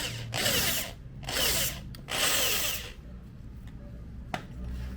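A power drill fitted with a larger bit bores through a screw head on a DIY brake light stopper for a KIA, in three loud whirring bursts separated by short pauses, ending with a faint click and a quiet tail.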